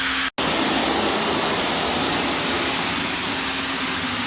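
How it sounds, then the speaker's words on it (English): Low-pressure water rinse spraying over a tile floor, a steady close hiss of running water broken by one brief cutoff near the start, with no talking. "So we're doing a light rinse. We're not using a lot of pressure at all"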